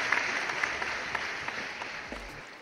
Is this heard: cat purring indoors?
no